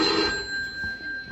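A telephone rings inside a family home, its steady electronic tone sounding clearly and alone with no voices.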